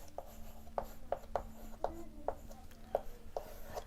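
Chalk or marker writing on a board during a maths lesson, a series of short, regular scratchy strokes about twice a second, close and fairly quiet with no voice.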